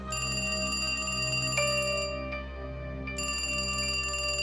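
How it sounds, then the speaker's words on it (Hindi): A mobile phone ringtone plays in a Hindi animated horror story, a steady electronic ringing melody that pauses briefly midway and resumes, loud and alone with no talking. "सुबह देवांश की आंख उसके मोबाइल की रिंग की आवाज से खुली।"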